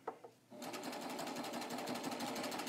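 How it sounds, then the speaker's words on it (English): After a couple of soft handling taps, a sewing machine starts stitching a bias strip and runs at a fast, even, rattling pace, close and steady. "then I can put my foot down and I can start stitching"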